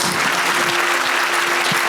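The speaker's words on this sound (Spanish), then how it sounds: "Dale un fuerte aplauso" A congregation at a church service claps loudly and continuously, a dense wash of applause with a faint steady tone underneath, no talking over it.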